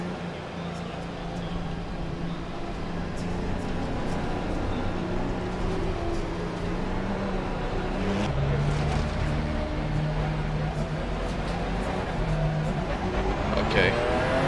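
A race car engine in a VR racing game drones steadily, its pitch rising and falling in smooth sweeps as it revs, with a continuous mechanical roar throughout.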